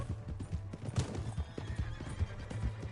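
A horse in the Red Dead Redemption 2 video game trots with rapid, steady hoof clip-clops and lets out a whinny, close and clear with no talk.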